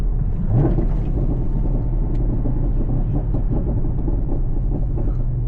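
A 2022 Camaro ZL1 drives along, its engine a steady low rumble with road noise, heard from inside the car without a distinct rev.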